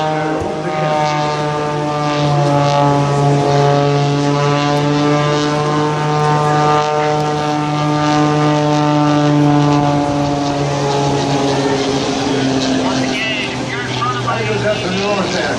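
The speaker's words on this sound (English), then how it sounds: "Rolling the airplane to the left, turning to the right." Propeller airplane flying aerobatic rolls and turns at an air show, a steady droning engine tone with slowly shifting pitch heard at a distance under an announcer's continuous commentary.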